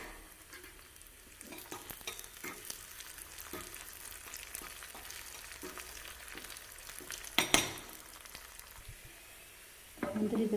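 Cashews and raisins frying in ghee for sweet pongal, a soft steady sizzle with faint stirring scrapes and a brief louder clatter near the end, no voices.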